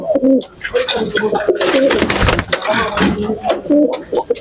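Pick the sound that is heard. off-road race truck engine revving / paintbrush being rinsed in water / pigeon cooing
pigeon cooing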